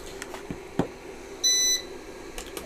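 A single short electronic beep from a Trust UPS PW-4130M unit sounds once in a quiet room, surrounded by faint scattered clicks and taps.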